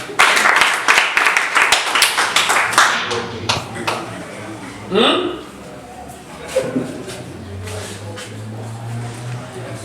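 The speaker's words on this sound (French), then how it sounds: "Applaudissez pour vous-même." An audience at a talk on nutrition claps in a quick, dense burst that thins out over a few seconds into scattered claps, followed by a voice and quieter room sounds.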